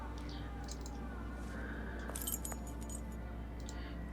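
A ring of keys jangles in the Sherlock Holmes: The Awakened video game, a short metallic clinking burst heard faintly over a steady low background hum.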